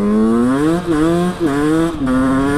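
Close, loud engine of a Rieju motorcycle riding in first gear with uneven gear changes: a steady droning tone that dips briefly at each shift, roughly three times, then picks back up, with no talk.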